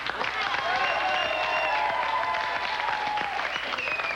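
Steady audience applause from a studio crowd, dense and continuous throughout, with a faint voice or cheer buried in the clapping.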